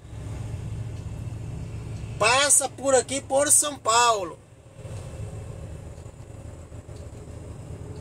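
Busy traffic on the Rodovia Ayrton Senna highway in São Paulo makes a continuous low rumble of passing cars, and a person speaks briefly over it partway through.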